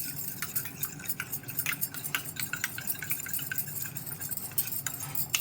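Food being mixed by hand in a bowl, with a steady, close run of wet squelching, slapping and light clinking that goes on without pause and without talk.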